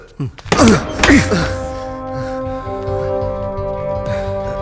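Several heavy thuds of banging on a locked door in a Malayalam film scene, a quick cluster of loud knocks followed by a lingering, resonant background tone.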